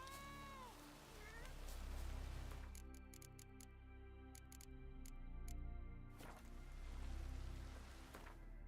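Cats in The Witcher 3 meow at a witcher, a few rising-and-falling meows near the start over a steady low background hum and patter of rain.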